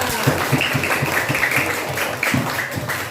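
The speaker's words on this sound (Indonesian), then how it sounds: "Yang lebih keras lagi tepuk tangannya." Pupils in an Indonesian fourth-grade classroom clap harder, a dense ongoing patter of many hands with a rhythmic beat at moderate loudness, a few faint voices mixed in.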